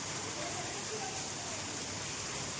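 Heavy monsoon rain pours down steadily during a storm, a dense, even hiss of water filling the whole scene without pause, close and constant.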